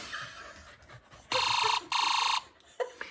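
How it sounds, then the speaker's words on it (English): A toy ambulance siren sounds in two loud electronic wailing bursts, each about half a second long and close by, separated by a short pause, with faint background noise around them. "Clint, do the alarm again"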